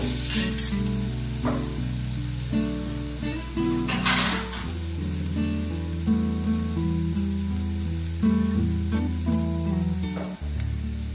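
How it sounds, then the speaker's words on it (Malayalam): Snake gourd seeds frying in a pan, a loud continuous sizzle with bursts of spattering and occasional clinks of a utensil stirring against the pan. "ഈ പടവലങ്ങയുടെ വിത്തുണ്ടല്ലോ അതിട്ട് കൊടുക്കാം"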